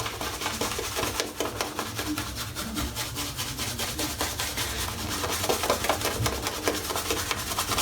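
A shaving brush with a lovely knot and a heavy, long handle works Stirling Iced Pineapple soap into a lather on a head, producing steady close scratchy rubbing strokes that continue without pause and without talk.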